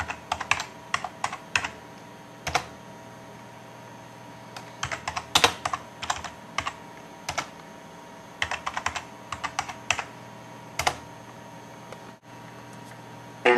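A password is typed on a computer keyboard nearby, with scattered clusters of crisp key clicks separated by short pauses and a faint background hiss.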